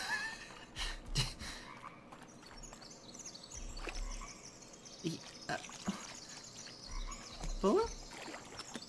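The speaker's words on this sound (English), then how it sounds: "Did you just chase the fucking frog?" Frog croaks in the Blair Witch video game, a few brief low calls scattered through an ambient forest soundscape, with a voice speaking over the scene.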